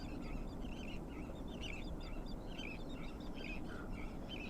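Seabirds squawking on Port Aransas beach, like black skimmers, with repeated short calls over a constant faint rumble of wind or surf.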